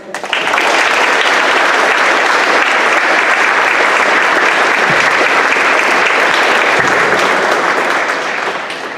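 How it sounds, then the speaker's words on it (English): Loud, sustained audience applause fills a school assembly hall for a Veterans Day honoree, dense even clapping from a large crowd that swells and fades slightly at the end. "a warm round of applause for Mr."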